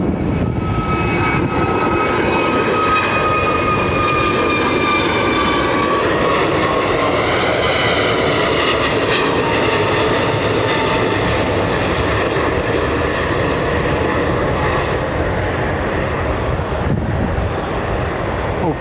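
A Qantas Airbus A380 airliner at London Heathrow Airport roars steadily and loudly, its broad jet engine rumble with rising and falling whining tones holding for the whole stretch, mixed with wind buffeting the microphone.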